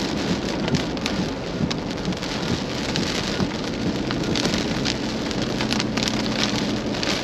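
Heavy rain pours steadily during a Nebraska thunderstorm beneath a wall cloud while chasing a weak tornado, a dense, constant hiss of drops drumming on a surface with faint rumbling underneath and no speech.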